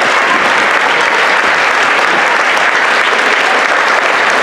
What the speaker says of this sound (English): So if you could please give a round of applause to those people.